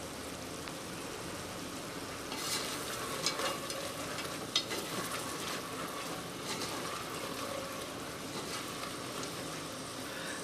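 Diced yellow onion frying in a pot at the start of a chili, giving a steady, soft sizzle with occasional stirring clicks and scrapes throughout.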